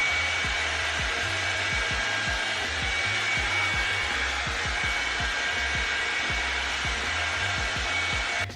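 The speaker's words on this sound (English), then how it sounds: "On the low setting, I'm going to dry them like up like this" Revlon One-Step hair dryer on its low setting, a steady close whir that runs the whole time with faint rhythmic brushing strokes through the hair and no talking.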